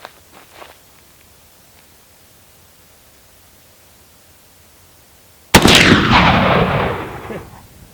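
A single loud, close gunshot from a WWII Russian Mosin Nagant rifle in 30 caliber cracks out after a quiet stretch, followed by a long fading echo.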